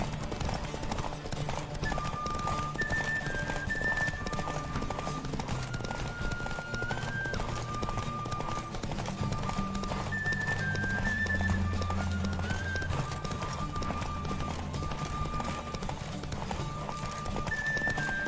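Horse hooves pound in a fast, continuous galloping rhythm in The Witcher 3 video game, with a horse whinnying now and then and a melody playing throughout.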